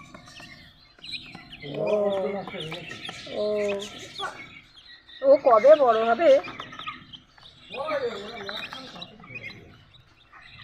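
Chickens and chicks at a village market give short clucks and chirps in bursts, heard under close, continuous conversation.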